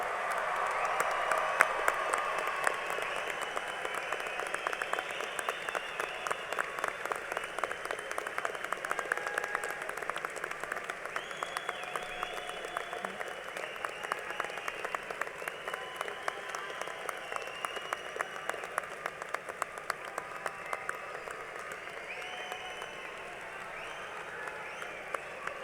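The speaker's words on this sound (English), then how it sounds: "Let's all give them a nice round of applause." A graduation audience gives the Class of 2018 a long round of applause, with many hands clapping steadily at a moderate distance and individual claps standing out throughout.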